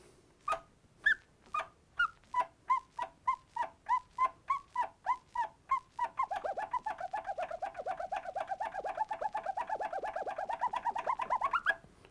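Turntable scratch chirps, made by pushing the record forward while closing the fader: a string of separate, evenly spaced clipped bursts, then a fast continuous run of rapid scratches rising in pitch at the end, with no talking.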